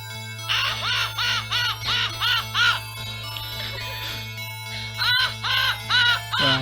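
Harsh, synthesized cawing from the Sega Genesis game Phantasy Star III, two bursts of several quick rhythmic caws each, set over a steady low chiptune drone with a quieter gap between the bursts.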